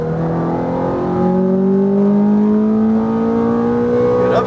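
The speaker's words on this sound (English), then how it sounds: "Good upshift." A Ferrari F430 engine accelerates hard on a race track, its loud, close tone climbing steadily in pitch as the car pulls at full throttle.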